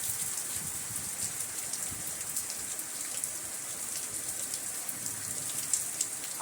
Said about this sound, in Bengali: এই বৃষ্টিটা সব জায়গাতেই হচ্ছে